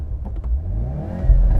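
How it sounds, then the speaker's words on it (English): A Hyundai Veloster N with a DCT gearbox revs up nearby, its engine note rising and falling with a turbo whir, and a few exhaust pops come through near the end. "Actually, give it a rev. Let me see how this thing sounds."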